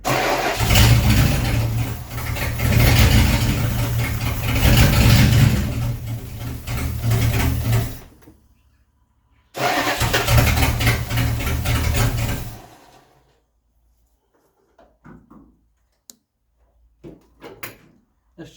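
A car engine with a rebuilt carburettor starts and runs loudly for several seconds, cuts out, then fires and runs again before stopping. Quiet clicks and small handling sounds follow in near silence.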